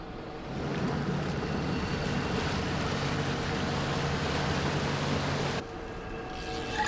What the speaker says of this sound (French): Petit peu de moteur, Eric.